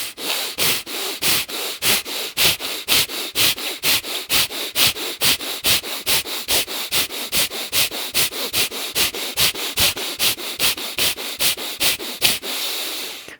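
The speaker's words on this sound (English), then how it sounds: "we'll start with that first round of Bhastrika, the breath of fire, to energize the whole body" Bhastrika breath of fire: rapid forceful nasal breathing, a long run of sharp, evenly spaced puffs at about two per second, close and loud, with no talking.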